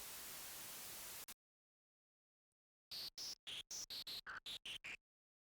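Synthesizer white noise from a VCV Rack module, a steady hiss lasting just over a second before cutting to silence, followed by about nine short, evenly spaced filtered noise bursts with shifting pitch, like retro electronic percussion hits.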